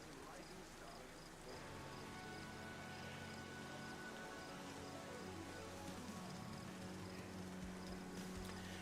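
Rain falls steadily in the survival game DayZ, heard as a continuous, even patter around a bus stop shelter, with soft tonal game sounds beneath.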